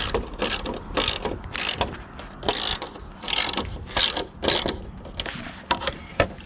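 A hand ratchet clicks in quick repeated bursts while turning headlight bolts on a dually truck, close and loud, with short pauses between each run of ratcheting strokes.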